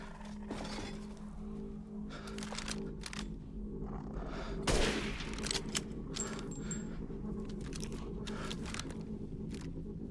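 Gunfire from shooting enemies in Resident Evil Village, a few sharp shots and a louder burst midway over a low rumbling game ambience, no talk.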